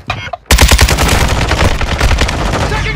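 Rapid automatic gunfire in Call of Duty Modern Warfare 2 Ground War bursts in after a brief quiet moment, then rattles on loud and dense in fast repeated shots to the end.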